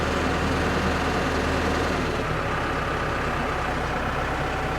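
A truck engine idles close by, a loud steady low rumble with an even throbbing pulse that settles slightly lower partway through.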